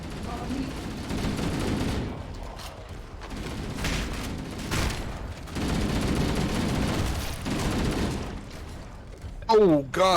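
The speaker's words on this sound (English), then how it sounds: "Oh god, he shotgunned me." Gunfire in the Halo video game, with enemy shotgun blasts amid dense bursts of shots and mechanical clatter over several seconds, with a brief tonal sweep near the end.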